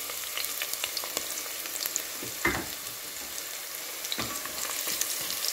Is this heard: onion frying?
yes